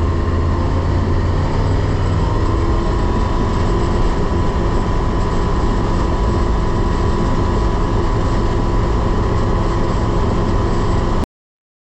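A Rotax 912 ULS aircraft engine idling at about 1,400 RPM, giving a steady, loud, close drone with an even rumble that holds unbroken for the whole stretch before cutting off abruptly near the end.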